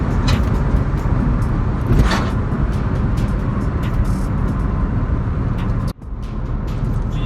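Steady road and engine noise from a Mitsubishi Lancer turbo car as it slows under braking, with a brief dip and clunk near the end before the drone resumes.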